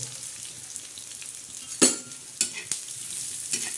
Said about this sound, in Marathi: आता हे धने असे खरपूस भाजायचे.